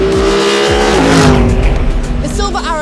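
Mercedes-AMG LMGT3 race car of the Iron Lynx team at Le Mans in the WEC, its engine loud and close with rising revs, quick gear shifts and a pass-by, while someone talks over it.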